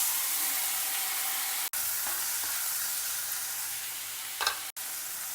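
Washed yam pieces fry with browned dals and curry leaves in a pan, a steady close sizzling hiss interrupted by two sharp brief dropouts and a burst of crackle near the end.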